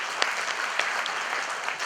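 A church congregation applauds during a sermon, a fairly quiet, even patter of hands with a few sharper individual claps standing out.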